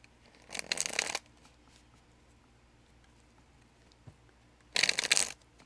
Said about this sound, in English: this didn't want to shuffle right when I said that